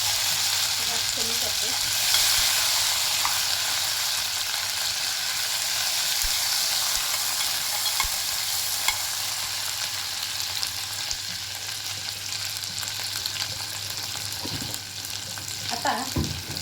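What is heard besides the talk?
onion-coconut masala paste frying in oil in a pan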